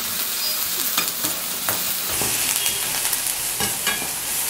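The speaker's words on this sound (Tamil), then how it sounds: "இந்த பிரண்டை மட்டும் நல்லா வதங்கணுங்க, அது கொஞ்சம் நல்லா வதங்கணும்" Pirandai sautéing in sesame oil, a continuous close sizzle with occasional stirring scrapes and knocks, steady and fairly loud throughout, no voices.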